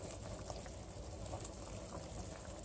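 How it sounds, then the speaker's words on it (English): Leek, potato and pea soup at a rolling boil in a pot, a close, steady bubbling roar with faint pops and gurgles, continuous and even throughout the short stretch with no voices. "It's at a rolling boil, and I'm going to give it a good stir."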